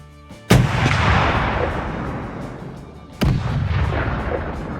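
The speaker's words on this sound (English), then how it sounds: "And now that we've got some shots up with the 50 cal" .50 caliber sniper rifle fires two loud, sharp shots a few seconds apart at a bag of flour, each blast trailing off in a long rolling echo outdoors.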